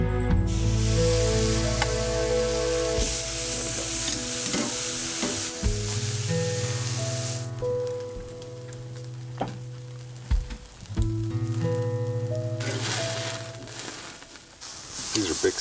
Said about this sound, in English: These are big steaks. They're going to take a little while to cook.